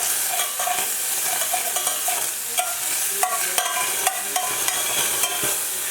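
Cooked tamarind pulp is pressed and scraped with a spoon in a pot to separate out the seeds, giving steady wet squelching and clinking stir sounds throughout, close and moderately loud.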